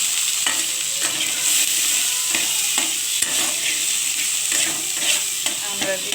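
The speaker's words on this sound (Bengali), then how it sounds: "আমড়াটা ভালোভাবে ভেজে নিতে হবে" Hog plums (amra) fry with onion in a pan of hot oil, a continuous bright sizzle broken by repeated scraping stirs of a spatula, heard close and alone.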